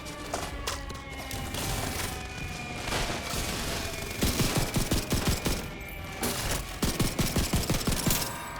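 Sustained gunfire in The Division 2, starting as scattered shots under game noise and building into rapid, loud automatic bursts of close fire.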